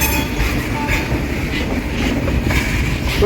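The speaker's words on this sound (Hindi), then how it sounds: "गुडूर जंक्शन रेलवे स्टेशन के मेन लाइन में हम लोग इस समय प्रवेश कर रहे हैं" A Tamil Nadu Sampark Kranti Express passenger train rolls into Gudur junction station on the main line, heard from on board as a loud, steady rumble with rhythmic clickety-clack of wheels over rail joints and a faint squeal.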